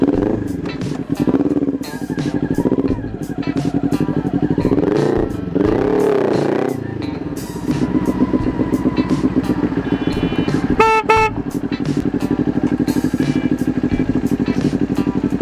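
A motorcycle engine runs close by on a street, revving and idling with a mechanical clatter, while people talk over it throughout.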